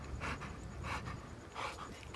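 A puppy pants close by in quick, regular breathy bursts, three distinct rounds of soft rapid huffing with short pauses between them, quiet and alone.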